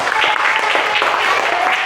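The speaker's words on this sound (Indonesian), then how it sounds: "tepuk tangan dulu." A classroom of students clapping together after singing, steady dense applause filling the room from start to finish.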